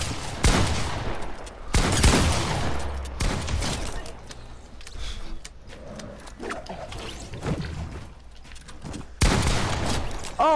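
Loud bursts of video game gunfire during a one-on-one sniper battle, with several heavy blasts and a stretch of mechanical clicks and clatter between them.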